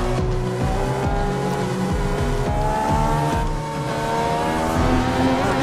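A race car lapping in the iRacing simulator, its engine droning loud and continuously with rising and falling revs, repeated gear changes and tyre squeal, heard alone with no voices.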